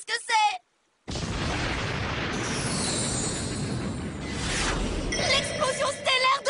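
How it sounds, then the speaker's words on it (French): A Beyblade Pegasus Star Blast special attack lands with a long, roaring explosive rush that swells and then fades into high shimmering tones, coming after a short spoken line and a moment of silence. "L'explosion stellaire de Pegasus!"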